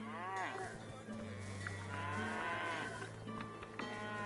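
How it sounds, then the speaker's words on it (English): Cattle mooing in the fantasy role-playing game Divinity: Original Sin 2, several drawn-out lowing calls rising and falling over a steady low ambient hum, moderately close and clear. "Why is there a sound of cows?"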